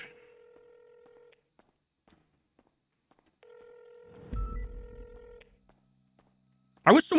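Telephone call tones on a line: a steady ringback burst plays for over a second, silence with faint clicks follows, then a second ringing burst, some low rumbling noise, and a sharp loud clatter at the very end.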